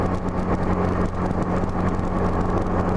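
A Honda GL1200 motorcycle fitted with a carburetor kit pulls smoothly, a low steady engine drone with wind rush close to the microphone, building speed without talk.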